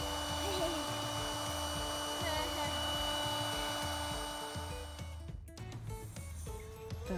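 A small electric fan runs inside a camping tent, a steady low hum with a faint periodic ticking. The sound holds even throughout and is cut by a short rustle near the end.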